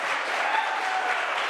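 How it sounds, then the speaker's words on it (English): Audience at a community talent show in Southminster clapping steadily, a dense burst of applause filling the whole short moment. "One more round of applause."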